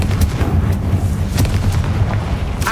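A Confringo fire spell bursts in Hogwarts Legacy, a loud rumbling boom with several sharp cracks scattered over a sustained low roar.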